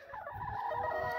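Chickens cluck softly in a short, faint burst of overlapping, throaty calls nearby.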